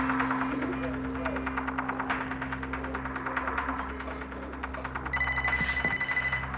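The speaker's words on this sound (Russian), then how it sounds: "А вот этой Викуловой можно позвонить?" A telephone ringing tone on a call plays as a steady repeating pulse over a low electrical hum, fairly quiet and continuing throughout with no voices over it.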